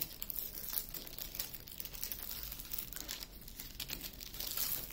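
Plastic film being peeled back from a sticky 30x30 diamond painting canvas, a continuous close crinkling and crackling that runs for several seconds at steady volume, with no talking.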